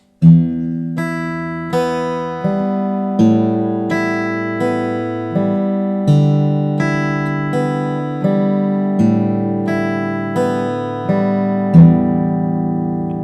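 Plucked guitar notes picked one string at a time in a steady, even rhythm, each note ringing into the next, played alone and close.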